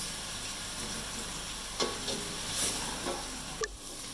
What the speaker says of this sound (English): So here we are frying our onions.